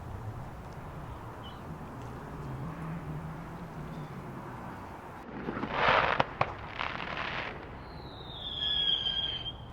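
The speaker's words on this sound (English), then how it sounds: "we got to watch a whole fireworks display from the comfort of our home, just by sticking our heads out the window." Bonfire night fireworks go off outdoors beyond a narrowboat window, a burst of distant crackling pops and bangs arriving about halfway through after a quiet, muffled stretch.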